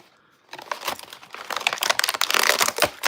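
Plastic ties being snipped off a Turtles of Grayskull toy package, with crisp crinkling and rustling of the plastic in close, busy bursts after a short quiet start.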